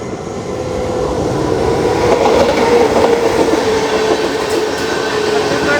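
A Chhattisgarh Express train runs close alongside on a parallel track, its loud rolling rumble and rail clatter swelling and holding steady with a faint squeal.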